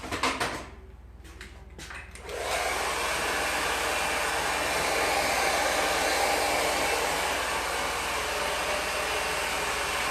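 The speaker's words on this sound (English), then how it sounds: "let's dry Smaweli's hair and see what happens" A handheld hair dryer blows steadily and loudly on a man's hair at a stylist's salon, starting after a couple of seconds of quieter clicks and handling, then running as a continuous close roar.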